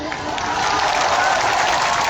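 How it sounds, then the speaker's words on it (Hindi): An audience at a stage event claps loudly for Khesari, a dense, steady wall of applause that swells slightly and holds for a couple of seconds. "हम चाहते हैं तो जोरदार ताली बजाती भैया खातिर।"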